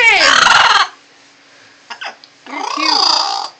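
A parrot gives two loud, harsh squawks with a quiet gap between them, where a few faint soft sounds can be heard.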